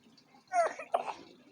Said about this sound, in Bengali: ওরে বুড়ো কাশি রে।